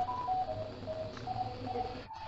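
A VHF foxhunt beacon heard through a radio receiver during direction finding: short, steady tone pulses repeat at an uneven pace over a constant bed of static hiss, moderately faint.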